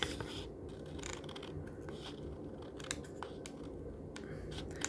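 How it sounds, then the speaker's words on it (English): Scissors snip through coordinated cardstock up close, a steady run of crisp rasping cuts over a low background hum, with no talking. "just go right up against the coordinated cardstock and cut it off"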